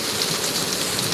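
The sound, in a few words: warm rain falling during a thunderstorm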